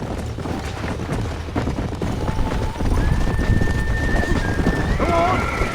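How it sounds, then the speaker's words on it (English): Horses gallop with steady clip-clop hoofbeats and a whinny near the end, in the Red Dead Redemption western video game, all set over a loud, busy game soundscape. "There's the horses!"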